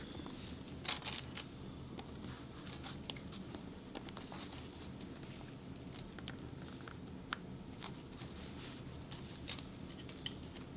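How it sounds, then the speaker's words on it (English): Scissors snip through backpack fabric in a quiet run of crisp, close cuts, some spaced apart and some in quick bursts, over a soft background hiss. "Snipping into that corner"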